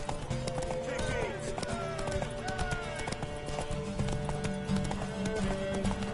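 Rapid clip-clop of a video game horse's galloping hooves driving forward steadily, with game music and effects layered underneath.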